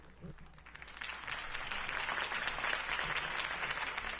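A large crowd applauds steadily in a Telltale Batman video game scene, the clapping swelling after a second and holding at a dense, loud level to the end.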